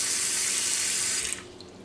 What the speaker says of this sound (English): Cover the bacalao again completely with fresh cold water